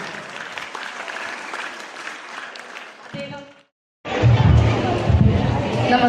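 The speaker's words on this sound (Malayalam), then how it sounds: "നല്ലൊരു കയ്യടി എടുത്തുകൊണ്ട് നമുക്ക് അദ്ദേഹത്തിനെ സ്വാഗതം ചെയ്യാം." An audience at a school event for Yoga Day and Music Day breaks into loud, sustained applause after a short gap, following a speaker's announcement over the microphone.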